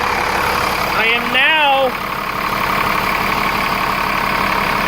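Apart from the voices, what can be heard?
2003 New Flyer bus engine idling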